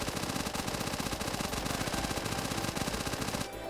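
Rapid automatic fire from a self-defense turret in the video game One Step From Eden, a dense, loud stream of shots at a steady clipped rhythm that runs unbroken for several seconds before cutting off.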